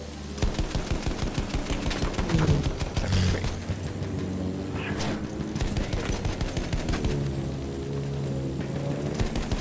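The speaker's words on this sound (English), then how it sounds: "Something is shooting!" Rapid machine-gun fire aimed at a plane in a combat flight video game, dense bursts of repeated shots over an engine drone, loud and continuous, with a player's voice speaking intermittently.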